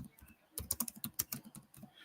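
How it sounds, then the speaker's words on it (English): Typing on a computer keyboard: a quick, uneven run of close, crisp key clicks, sparse at first, then dense, with no voices. "So I'm just typing in what I'm looking, what I want."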